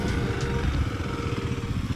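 An off-road dirt bike engine revs hard while climbing a hill at the Wildomar OHV area, held at high RPM in first or second gear, a loud, steady, buzzing drone with slight fluctuations throughout.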